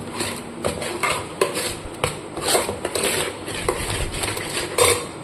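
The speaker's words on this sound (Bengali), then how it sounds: "এবার এটাকে জল দিয়ে ভালো করে ঘেটে নেব, একটা মোটা থিকনেসের ব্যাটার বানিয়ে নেব।" A spoon stirring semolina dhokla batter with water in a bowl, giving irregular scraping and clinking knocks of utensil against the vessel, fairly close with no talk.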